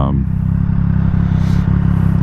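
A 2020 Triumph Street Triple RS motorcycle engine drones steadily through the whole ride, a low pulsing rumble with faint clatter, while a voice talks over it.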